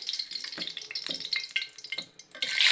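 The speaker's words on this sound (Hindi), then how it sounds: "घी जो है हमारा गर्म हो गया है। अब मैं इसमें ऐड कर रही हूँ प्याज और लहसुन का पेस्ट" Onion and garlic paste dropped into hot ghee, crackling and sizzling in irregular bursts that swell into a louder hiss at the end.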